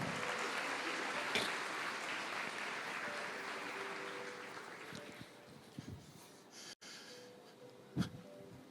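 Church congregation applauding during a Portuguese-language sermon, a broad wash of clapping that fades after a few seconds, leaving quieter room sound with scattered sharp knocks and breaths.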